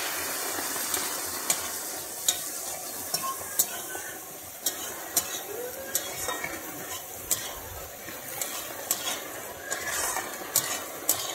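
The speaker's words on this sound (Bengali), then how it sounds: "আমি পেঁয়াজটা কিন্তু বেশি লাল করে ভাজবো না, মোটামুটি ভাবে একটুখানি ভেজে নিচ্ছি।" Onions lightly fried and stirred in a pan for Bengali lau chingri (bottle gourd with prawn): a steady close sizzle broken by repeated sharp spatula scrapes and clinks against the pan.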